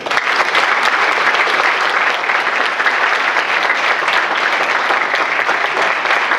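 A lecture audience breaks into loud, steady applause to welcome a speaker. Dense clapping holds evenly throughout with no voices over it.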